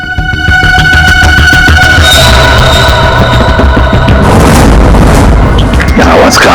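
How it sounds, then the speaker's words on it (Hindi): Repeated heavy, booming bangs with a hollow, metallic ring from inside a water tank, loud and close, continuing in an irregular rhythm throughout. "किसी चीज की ठोकने की आवाज है सर। पानी की टंकी के अंदर कुछ लग रहा है।"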